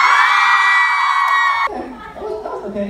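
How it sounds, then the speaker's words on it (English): A crowd at a live stage event screams loudly and continuously on cue, a dense high-pitched roar that cuts off abruptly, followed by lower chatter and voices. "we want you guys to scream as loud as you can"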